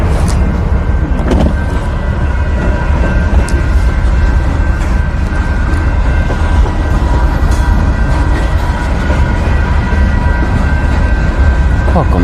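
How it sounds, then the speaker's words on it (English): A train passes close by in Brazoria County, Texas, its steady rumble filling the whole stretch as continuous heavy noise with a faint tonal whine on top, and a voice is briefly heard over it. "here's a train for everyone"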